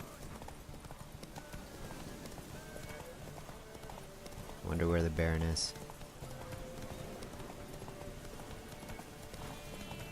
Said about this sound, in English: The horse is getting tired.